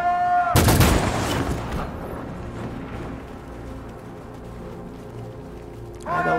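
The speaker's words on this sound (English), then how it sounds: "Okay, so they will shoot." Video game gunfire: a sharp loud gunshot burst near the start, then a lingering musical, droning backdrop, and another burst of shots just before the end.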